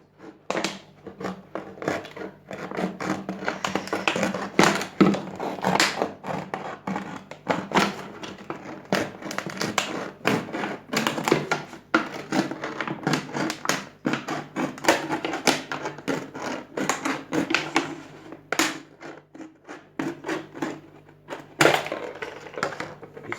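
A plastic PET bottle being cut, likely with a blade, giving a long run of irregular sharp taps, clicks and crunchy snips in quick succession, close and fairly loud, with no talking.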